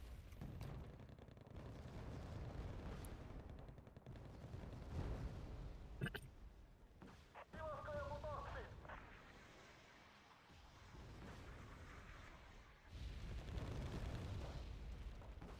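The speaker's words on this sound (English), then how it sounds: "We got some very, very accurate artillery. And a lot of it firing at me." Artillery in the war game Wargame Red Dragon fires at a T-90S tank, repeated deep booms and rumbling blasts, some close and heavy, others distant, rolling on continuously with brief sharper cracks between.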